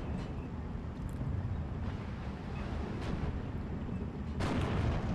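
Artillery-like fire in Steel Division 2 as a StuG IV shoots at a ZIS-2 anti-tank gun: a continuous low battlefield rumble with a few dull distant impacts and a heavier blast near the end.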